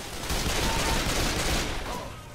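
Sustained gunfire in the zombie shooter Left 4 Dead 2, a dense stream of rapid shots rising and fading over a couple of seconds, close and loud, with no voices.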